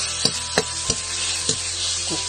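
Oil heating on high in a pan for pork leg stew, a constant bright sizzle with a few sharp knocks of a utensil against the pan at irregular intervals, close with no voices.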